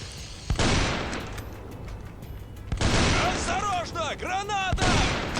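Three loud shotgun blasts go off a couple of seconds apart in a World War II mobile game, and someone talks excitedly between the shots.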